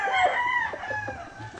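Chickens cluck at a poultry farm, with a rooster crowing loudly and close by in a drawn-out call over scattered lower clucks.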